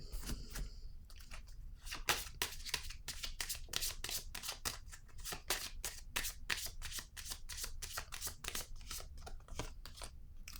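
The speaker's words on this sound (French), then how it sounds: "Je vais déposer une autre carte ici." Playing cards are handled and shuffled in quick, crisp riffling bursts, a close and steady run of flicks and slaps as cards are laid down one after another.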